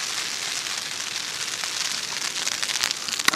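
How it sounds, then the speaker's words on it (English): Rain falls on the fabric of a Geertop Navigator Plus tent, making a dense, steady hissing patter with scattered sharper drop taps. It is close and even throughout, with no voices. "you can kind of see the raindrops on that material"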